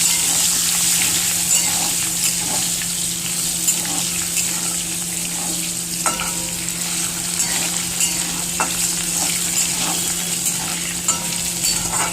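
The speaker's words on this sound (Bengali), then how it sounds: "এবার আমি আলুগুলো ভেজে নেব।" Potatoes frying in a pan of oil for a home-style rohu fish curry with onion, tomato and yogurt, giving a steady, close sizzle and crackle with occasional stirring clinks throughout, no talk.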